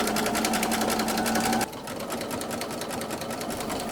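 A sewing machine runs fast stitching a T-shirt quilt, a loud even needle chatter that drops to a slightly lower, softer rhythm partway through, with no talking.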